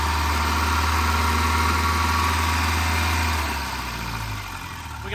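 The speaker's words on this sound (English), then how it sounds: "Go ahead, crank it again." A Volvo 940 Turbo engine running with a loud steady drone that dips toward the end, close up and without talk.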